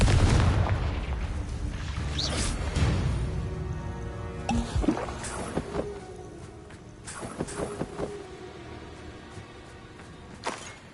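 Confringo explosive spell in Hogwarts Legacy, a deep booming blast at the start that rolls away, followed by scattered sharper impacts and crackles, with no talking.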